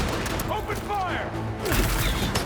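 Enemy gunfire erupts in Marvel's Spider-Man 2, a dense rattle of shots and bursts under shouting voices, loud and continuous for a few seconds.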